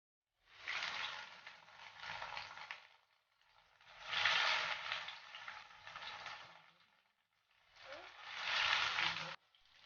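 Chicken nuggets sizzling in hot oil in a pan, three separate bursts of bubbling frying noise, each swelling and fading as pieces go in, with quiet gaps between.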